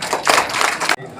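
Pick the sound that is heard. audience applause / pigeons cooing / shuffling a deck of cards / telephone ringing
audience applause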